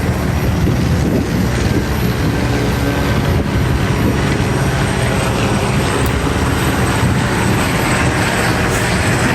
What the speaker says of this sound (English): I know this helicopter is flying around thick